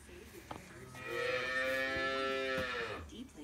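Holstein Friesian calves on a dairy farm let out a single long, loud moo lasting about two seconds, rich and harmonic, standing close and clear above quiet barn background noise.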